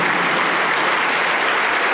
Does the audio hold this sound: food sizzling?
no